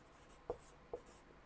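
A pen scratches across paper in three short, faint strokes spaced evenly apart, close by in a quiet room.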